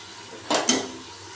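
Two quick, close scrapes of a utensil stirring carrots, beans and gherkins frying in oil for sambar, set against a faint steady background hiss.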